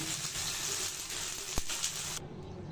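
Fried garlic and red chili tempering poured onto haleem, a brief close sizzle of hot oil hissing steadily with one sharp clink partway, no voices.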